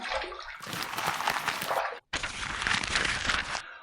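Running water rinses a razor under a tap, a steady broadband splashing in two bursts broken by a brief pause, close and fairly loud with no talk.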